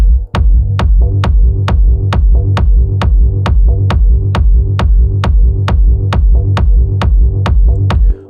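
Techno kick and bass programmed in Ableton, a loud, steady four-on-the-floor thump with a throbbing low bassline locked to each beat, alone with no voices.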